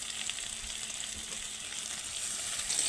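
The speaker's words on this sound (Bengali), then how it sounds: "দিয়ে ভালো করে নেড়ে একটু ভাজতে হবে। পেঁয়াজটাকে একটু ভালো করে ভেজে" Chopped onion frying in oil with garlic, chili and salt, a steady close hiss and sizzle with faint stirring, continuous throughout with no talking.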